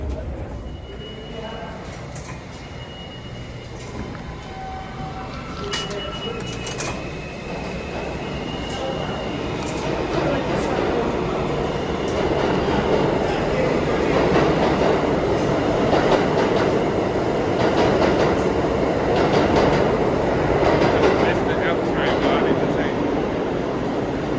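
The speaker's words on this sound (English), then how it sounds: "So I'm gonna go get on the train" A New York City subway train rumbles along, building in loudness with rattling and screeching metal, while a voice speaks faintly under the noise.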